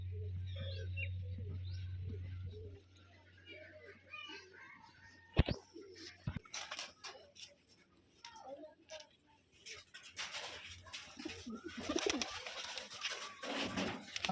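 Pet pigeons coo softly in a loft, low repeated coos early on, then sharp clicks, wing flutters and scattered bird sounds, with a person talking intermittently.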